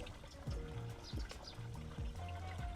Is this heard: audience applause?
no